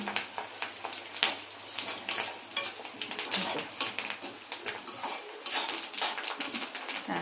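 Onion fries in hot oil in a pan, with soft crackling sizzle under frequent scraping and clinking of a spoon stirring, close and busy throughout.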